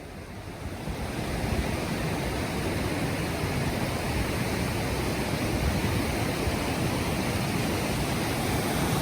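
Fish Creek flows beneath a trail bridge on the John Muir Trail in the Sierra backcountry. The water makes a steady, dense rush that swells in at the start and then holds loud and unbroken, with no voices.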